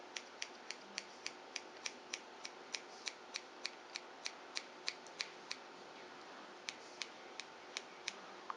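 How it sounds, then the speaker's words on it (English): Scissors snip steadily through wig hair, a Brazilian keratin Remi human-hair unit, adding texture near the bangs; regular crisp clicks repeat about twice a second, close and fairly quiet, with no talking. "And just take your scissors"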